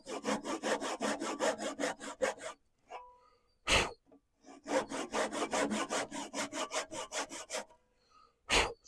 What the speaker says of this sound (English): So it's just easy to cut with a handsaw.